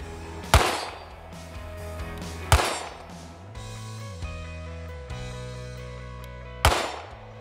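9mm pistol shots fired at an outdoor steel target: three sharp, loud reports a few seconds apart, each followed by a ringing metallic tone from the struck plate, with no talking.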